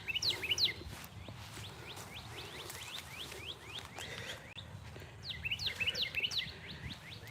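Birds chirping and tweeting outdoors along a quiet street, with repeated bursts of calls over faint background noise and no talking.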